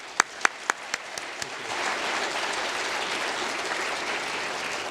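A lecture audience bursts into applause for a sponsor and speaker, starting with a few sharp, isolated claps that quickly swell into steady, full clapping from the whole room.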